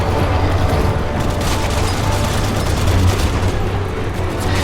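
Resident Evil 6 gameplay fills with continuous loud combat: a grenade blast and rattling gunfire merge into a dense, booming wall of noise with no pauses.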